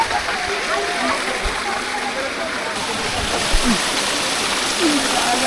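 Mayabi waterfall at Jaflong in Sylhet, a steady broadband rush of falling water heard close and continuous, with faint voices and occasional splashes underneath.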